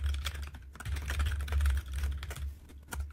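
Rapid typing on a computer keyboard, close and crisp, with irregular bursts of key clicks and a low steady hum underneath.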